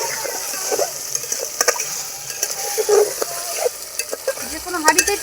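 Chicken do pyaza cooks in a pot rather than a kadai, a steady sizzle and frying hiss running throughout with scattered stirring scrapes and clinks, moderately loud and close, no talk.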